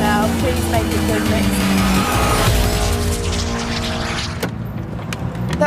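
A Peugeot 205 GTI race car corners on a track, its engine loud and close with tires squealing and rising and falling revs, and people talking over it.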